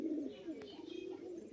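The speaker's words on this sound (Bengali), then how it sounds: "একটা মাদি পায়রা দেখুন শুধু কোয়ালিটিটা" A female pigeon gives a low, soft throaty coo, a short rolling call held close and fairly quiet against faint background noise.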